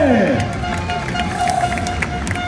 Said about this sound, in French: merci d'applaudir Maxime Després